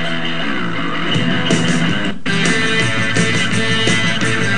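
Full, loud music track for exercise audio with a steady beat and layered instruments, briefly cutting out for a moment before resuming.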